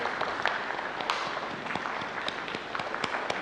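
A church congregation claps quietly to imitate the start of a storm, making a soft, scattered patter of many hands. The light claps go on steadily and no one speaks over them.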